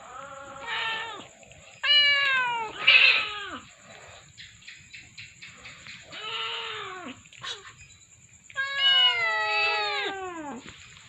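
A kitten trapped by a river meows repeatedly, loud and close, in several drawn-out plaintive cries separated by short pauses.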